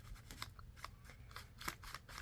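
Scissors snipping holes into a paper bag journal, a quick run of close, crisp cuts and paper crinkles, faint and continuous over a couple of seconds.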